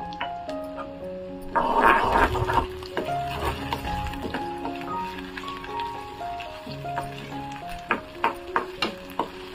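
Onion and green peas being sautéed in a pan for palak paneer, with soft sizzling and occasional spoon scrapes and clinks against the pan, close by. Louder stirring comes early on, and sharp taps follow near the end.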